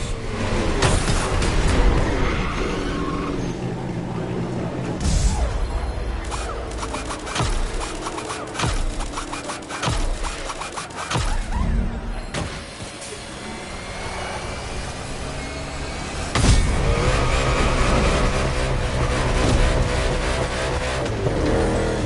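Racing car engine in a video game, a loud sustained roar with revving swells and shifts, steady engine drone filling the whole stretch with brief dips and surges.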